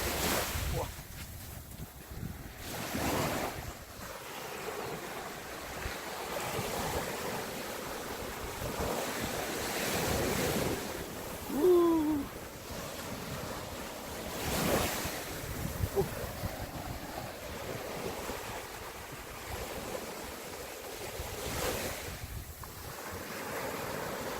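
Ocean surf rolls in and washes out repeatedly on a beach in Goseong, Gangwon-do, Korea, mixed with gusty wind buffeting the microphone, and faint voices now and then.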